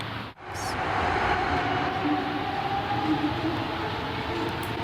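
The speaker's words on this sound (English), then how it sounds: "Trains creating the jump scare I promised would not exist." A train in a city in The Sims 4 rumbles past at a steady level after a brief dip, a continuous rolling wash of rail noise with no talking.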